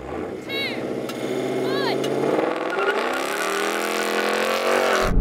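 At a drag race launch a diesel car accelerates hard, a loud, continuous engine roar climbing steadily in pitch, with voices shouting over it.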